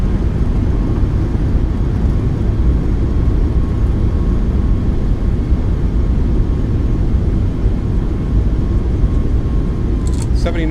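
A Boeing 737 MAX in a flight simulator game decelerating on its landing rollout at Los Angeles with thrust reversers deployed: a loud, steady roaring rumble throughout, with a thin tone inside it and a brief clatter at the very end.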